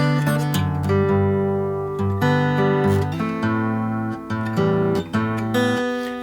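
Solo fingerstyle acoustic guitar plays a song, with a plucked melody over a bass line of ringing chords, clear and close with no voices.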